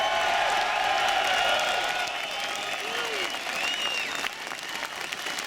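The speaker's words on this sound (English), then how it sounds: "A round of applause for those vets out there today" Crowd applause for military veterans at a Second Amendment rally in Albany, New York: dense, sustained clapping with some cheers and whistles, loud and steady throughout, fading slightly near the end.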